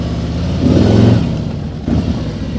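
A motorcycle engine revs and pulls away in first gear during a riding lesson in Uruguay, a close mid-pitched rise in revs that eases off, then picks up again briefly.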